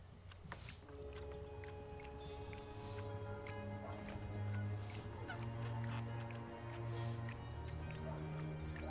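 Loud goose-like honks repeat over sustained musical tones and a steady background hum in the video game Dreamfall Chapters, several calls spread across the stretch.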